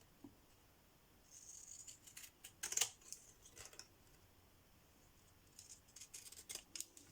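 Pinking shears cut through card while a double greeting card is being made: quiet, scattered snips and rustles, with one sharper crunch of the blades in the middle and more small cuts toward the end.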